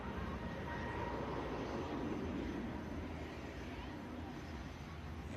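An EasyJet airliner departs at a distance, a faint broad roar of jet engines spreading steadily across the clip with no talk.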